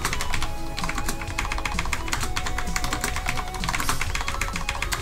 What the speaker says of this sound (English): I'm gonna type some stuff on this.